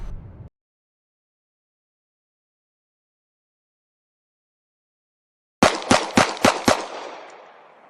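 Six rapid gunshots from an M17 pistol fired at targets during a training drill, sharp loud cracks in quick pairs with a fading echo tail after a long silence.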